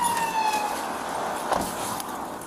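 A police car siren wails from a distance in an outdoor setting, a single steady tone that gradually fades, with faint background noise and no talk.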